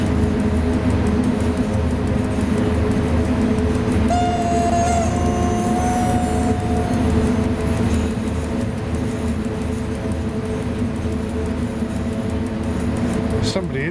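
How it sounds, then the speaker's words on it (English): A train in the SimRail multiplayer railway simulator game gives off a steady, loud rumble. A thin whining tone rises above it for a few seconds midway. "There's somebody in that train. It sounds like the deranged yak."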